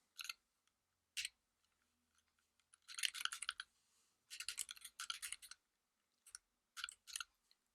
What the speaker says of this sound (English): you can actually skip seeing me typing every single line over and over